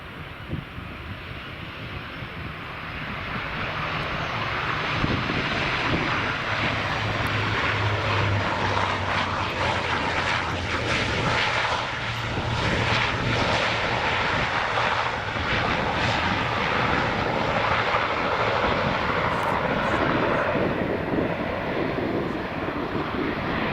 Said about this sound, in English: we've got Loganair's ATR 42-500 or 600, I'm not sure. It's a 500, just arriving here